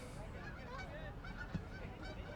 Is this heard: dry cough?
no